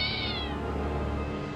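A kitten meows in a drawn-out, wavering cry that starts high and slides lower, heard close and loud over steady background music.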